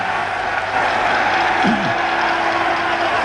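Large rugby crowd roaring as Ireland win the Triple Crown, a continuous dense wash of cheering and applause heard from a distance on an old broadcast recording, with a brief voice over it.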